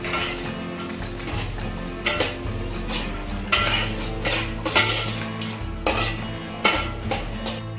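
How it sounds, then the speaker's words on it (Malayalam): Onions stirred with turmeric and salt in a pan for a Kerala clam roast: repeated metallic scrapes and clinks of a spoon against the pan over a low sizzle, in an uneven rhythm, close and fairly loud. "ഇതിലിട്ട് കുറച്ച് മഞ്ഞൾപ്പൊടിയും ഉപ്പും ചേർത്ത് നന്നായി വഴറ്റിയെടുക്കണം"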